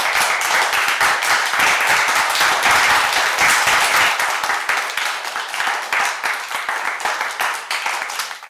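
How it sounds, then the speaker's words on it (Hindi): A singing competition audience claps for a contestant, a loud dense burst of many hands with distinct individual claps, continuing steadily and tapering slightly toward the end. "जोरदार तालियां राधिका के लिए।"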